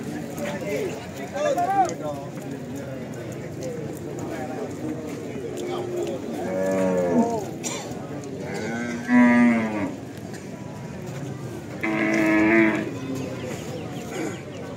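Limousin cattle moo repeatedly at a busy livestock market, several drawn-out lowing calls at close to mid range over steady crowd murmur, with people talking throughout.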